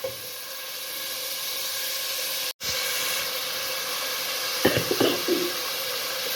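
Lobya masala frying in a pan, giving a steady, even sizzling hiss that runs throughout, with a short break and a few louder crackles and pops near the end.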